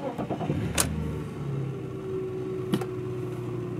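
A BMW E46 330i engine starts after a fuel filter change: a brief cranking burst, then a steady idle hum settling in, with a faint click later, fairly quiet and without speech.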